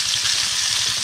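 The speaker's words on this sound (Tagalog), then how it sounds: "gisa lang tayo ng bawang, sibuyas" Garlic and onion sautéing in a pan, a steady, close bright sizzle with a soft pulsing rhythm underneath, continuous and alone without talk.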